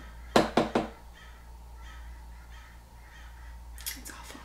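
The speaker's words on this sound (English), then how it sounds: "I have this trouble with all these birds right outside my window in this tree." Birds calling from a tree right outside a window: three loud, sharp caws in quick succession, then quieter chatter and another brief burst of calls near the end.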